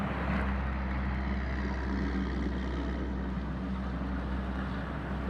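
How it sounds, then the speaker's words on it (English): A 1995 Ford Ranger with the 4.0 engine idling roughly because of a bad oxygen sensor, a steady low engine drone with a faintly uneven pulse throughout, close and continuous. "Replace your oxygen sensor if your truck has a rough idle."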